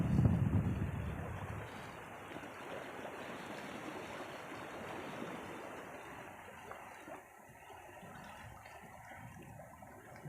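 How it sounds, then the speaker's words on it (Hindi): Floodwater from the Mangla Dam in Mirpur pours over a broken bridge, a continuous roaring rush of water with wind buffeting the microphone, loudest at the start and easing slightly, with no voices. "ये डूब जाती है और बहुत ही फ्लड है पानी का"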